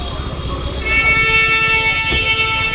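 Several vehicle horns honk over steady traffic noise, a sustained blare joining partway through and holding loud to the end.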